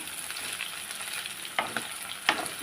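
Okra slices fry in an oil-filled pan with a quiet, steady sizzle, while a spatula stirs them now and then, making soft scrapes and two sharper clinks against the pan.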